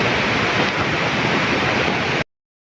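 Heavy flow of a swollen river during monsoon rain, a loud, dense, continuous rushing roar close by, cutting off abruptly near the end.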